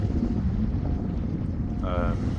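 Constant wind buffeting a microphone on a riverbank while fishing, low rumbling gusts throughout, with a short electronic tone near the end.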